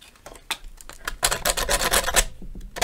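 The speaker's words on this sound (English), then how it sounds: "I sanded it right down" Sandpaper rubbed over a workpiece in a workshop, heard as a few faint strokes at first, then a louder run of rapid, dense rasping passes that slow and thin out at the end.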